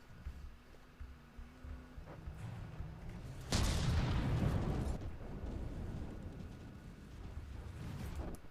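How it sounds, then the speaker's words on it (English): A cram cannon fires in a naval video game battle, a deep booming blast that swells suddenly and rumbles off slowly over low background noise. "Oh, another shot, probably a cram cannon."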